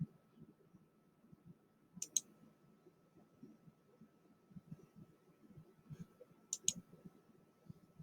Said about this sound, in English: by double clicking